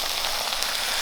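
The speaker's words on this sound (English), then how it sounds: "You want it really hot to sear the meat." Beef sears in a very hot pan, giving a loud, continuous hiss and crackle with no voices.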